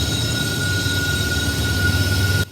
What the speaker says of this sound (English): I caught the NS trash train coming through